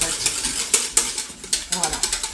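Béchamel sauce whisked briskly in a pan, a close, rhythmic scraping and clinking of the whisk against the metal in quick regular strokes that speed up toward the end.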